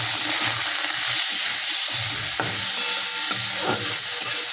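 Grated carrot fries with cumin and ginger in a pan, a steady close sizzle broken by a few light scrapes and stirring clinks, with no talk.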